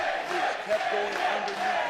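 Wrestling crowd at an ROH World Title match cheering for AJ Styles, a dense arena roar with rhythmic chanting and shouts, steady and fairly distant throughout.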